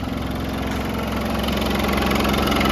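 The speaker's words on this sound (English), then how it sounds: "And she fires up." A 1989 Land Rover 110 with a 200Tdi diesel engine running just after start-up, a steady close rhythmic diesel clatter that holds even and grows slightly louder.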